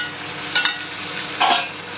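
Already-fried chicken is stirred and cooked in a pan, with a low sizzle underneath and two brief, louder scraping strokes of the spatula heard close by.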